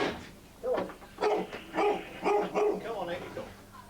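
A police search dog at a kennel in Grays barks and yips several times in quick bursts, fairly close, with a voice talking around the barks.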